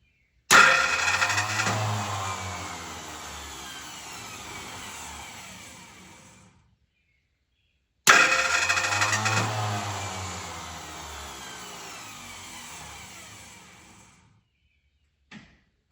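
A 1972 Ford F-100 cranks on its starter without catching, two long whirring bursts with a pause between them. Each fades out slowly, the way a freely spinning starter would, and a brief click follows at the end.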